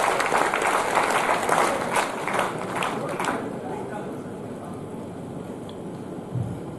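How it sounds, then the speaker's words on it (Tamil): Applause from a packed hall audience at a Tamil youth literature workshop in Madurai, dense and loud at first, then thinning and fading over several seconds. "அவர்களுக்கு அரங்கம் நிறைந்த கைத்தட்டலை உரித்தாக்குகிறேன்."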